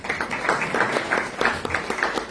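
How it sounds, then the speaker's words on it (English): Audience applause at a CASA 20th-anniversary press conference: a steady, moderately loud wash of clapping with a faintly pulsing rhythm, filling the short stretch without talk. "give them another round of applause"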